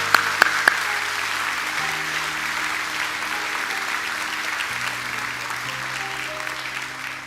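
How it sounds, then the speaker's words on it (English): At a fire recruit graduation ceremony held in a church, an audience gives a steady round of applause, with a few sharp nearby claps at the start and soft sustained tones underneath. "Give yourselves a round of applause."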